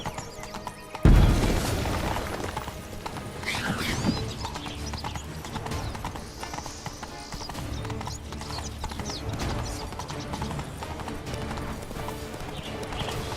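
Roach the horse gallops in Witcher 3: Blood and Wine, a steady clip-clop of hoofbeats running throughout under a busy game soundscape, opening with a loud boom-like impact.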